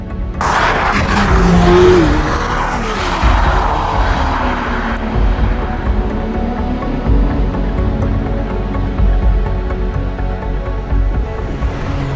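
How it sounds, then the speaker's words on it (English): A Lamborghini Temerario V8 engine starts with a loud burst and roars, then settles into a steady rumbling drone as the car drives off, close and loud throughout. "it's time to start the car and head out and see what it's like to drive"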